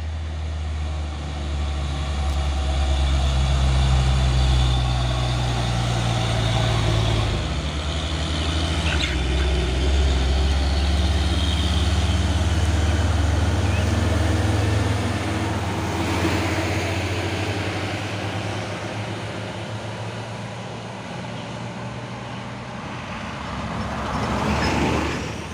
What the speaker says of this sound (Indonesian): Dan ini juga ada satu unit truk Fuso Oren 6x4 melewati tanjakan Bukit Kodok di pagi hari.